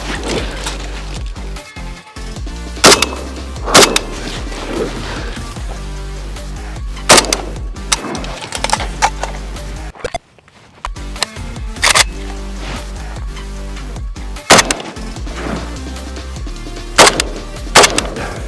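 An AKM rifle fires at an outdoor shooting range, a string of about fifteen loud, sharp semi-automatic shots at an uneven pace, with a short quiet gap partway through.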